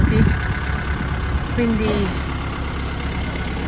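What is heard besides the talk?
car engine idling while warming up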